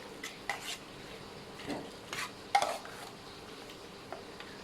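Duck larb stirred in a pan gives faint, scattered scrapes and clinks of a utensil against the metal, a few sharper knocks spaced irregularly over a quiet background.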